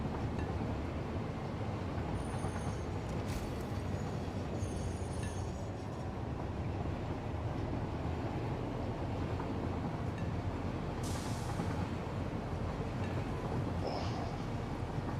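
A train running on tracks in a factory-building video game, a continuous loud rolling rumble that holds for the whole stretch, with faint high squeals and hiss passing over it.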